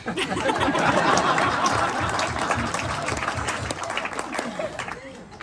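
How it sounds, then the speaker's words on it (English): Wedding guests break into sustained applause after a best man's speech, loud and dense clapping with some cheering and laughter, slowly tapering over several seconds. "can we get a round of applause for Sean, please?"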